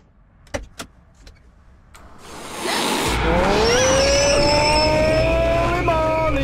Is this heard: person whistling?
no